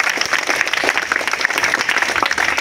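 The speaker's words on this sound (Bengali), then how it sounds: "এই জন্য সবার জন্য একটা তালি হবে জোরে।" Loud, dense applause from a crowd at a school science fair results gathering, many hands clapping steadily and evenly throughout with no pauses.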